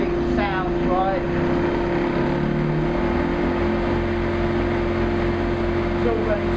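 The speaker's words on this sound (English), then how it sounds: "Start the spindle. Start it running. Check everything sounds right." Spindle of a Hapfo 5000 copy lathe starting up and then running at a steady, loud mechanical hum with a constant whine, with no voices over it.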